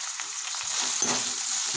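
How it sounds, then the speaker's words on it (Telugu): Meal Maker soya chunks fry in hot oil with fenugreek leaves, giving a steady close sizzle with a few soft stirring scrapes and no voices. "ఇప్పుడు దీంట్లో మెయిల్ మేకర్ ఇది ఇట్లా నూనెలో ఫ్రై కావాలి"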